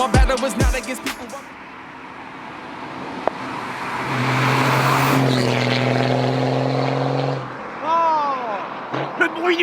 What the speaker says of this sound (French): Ça fait vraiment un bruit magnifique un TDS, hein.